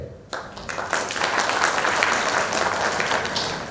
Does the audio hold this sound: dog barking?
no